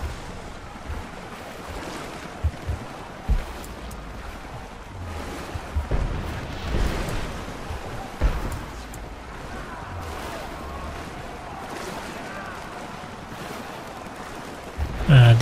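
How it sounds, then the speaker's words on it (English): Murky swamp water sloshing in Rise of the Tomb Raider's Geothermal Valley, a low steady wash with soft intermittent splashes and a few faint thuds. "Oh, I'm in a swamp right now."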